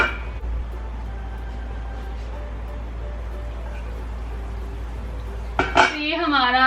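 A metal lid clanks onto a pot of simmering gravy near the end, after a stretch of low background hum.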